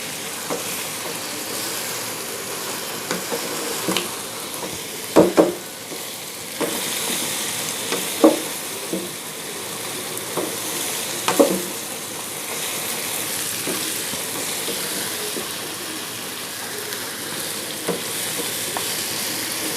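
Mutton chops frying in a pan with garlic-ginger paste, a steady loud sizzle that runs throughout, with occasional clinks and scrapes as the meat is stirred.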